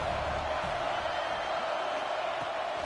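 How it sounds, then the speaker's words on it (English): A home crowd roars at a football game, a steady, distant wash of noise that holds evenly throughout without clear individual voices. "Man, this crowd really affecting the football game."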